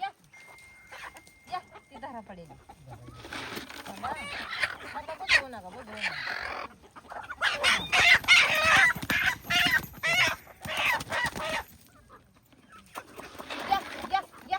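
Several chickens cluck and squawk close by in a village while people talk over and between them.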